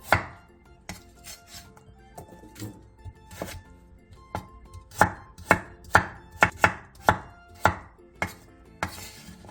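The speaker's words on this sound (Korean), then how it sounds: "양파 2분의 1개, 감자 1개, 당근 2분의 1개도 먹기 좋게 한 입 크기로 잘라주세요" Knife chops onion, potato and carrot into bite-size pieces on a board: a run of crisp, close thunks, slow and spaced at first, then quicker and steadier, with no voices.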